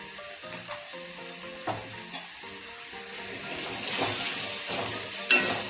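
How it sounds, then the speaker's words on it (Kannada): Turmeric and red chili powder sizzling in hot oil for a North Karnataka tempering, a steady fry hiss broken by a few sharp metal clinks of stirring. "ಒಗ್ಗರಣೆ ಎಲ್ಲ ಚಂದ ಕುದ್ದು ಎಣ್ಣೆ ಬಿಡಾಕತ್ರಿ"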